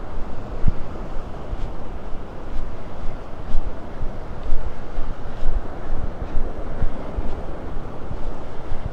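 Waves washing on a quiet beach in North Naples, Florida, a steady soft roar of surf mixed with wind rumble on the microphone, continuous with no talking.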